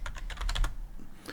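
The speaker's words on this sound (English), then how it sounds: "I've actually moved my keyboard in front of my microphone so I can type a little easier" Rapid typing on a computer keyboard placed in front of the microphone while answering a wars quiz on Sporcle, a quick burst of close, crisp key clicks with no voices.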